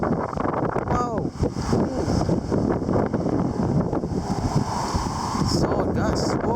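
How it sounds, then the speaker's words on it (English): A strong wind gust buffets the microphone outdoors during heavy showers and strong winds, a loud sustained broadband rush that swells and holds for several seconds, with excited voices exclaiming over it. "Solid gust."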